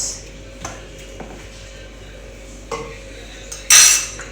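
A utensil scrapes and clinks against a bowl as chicken pakora ingredients are mixed with soy sauce and chili sauce. The sparse knocks end in a louder clatter.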